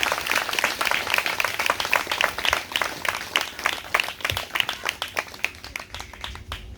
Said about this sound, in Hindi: सब ताली बजा के यीशु मसीह का धन्यवाद देंगे।